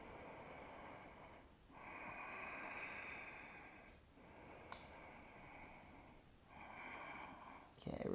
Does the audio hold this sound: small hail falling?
no